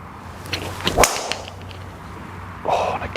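A Callaway Big Bertha B21 driver strikes a golf ball once with a sharp, muted yet solid crack outdoors, followed by a quieter rustle later on.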